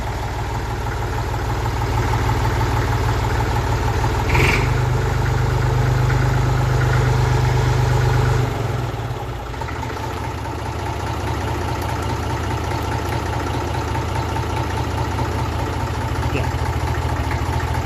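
A Massey Ferguson 35 tractor's diesel engine idles steadily and loudly at close range, its low rumble shifting slightly in pitch partway through.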